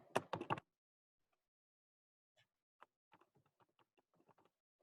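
Typing on an unfamiliar computer keyboard: a quick burst of loud key presses at the start, then a pause, followed by a string of softer, scattered taps, quiet and close.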